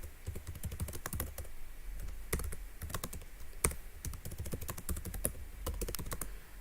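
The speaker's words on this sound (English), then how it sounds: "Here I'm just typing a message" Fingers type a message on a computer keyboard in quick, uneven bursts of clicking keystrokes, close and clear, with short pauses between runs and no voices.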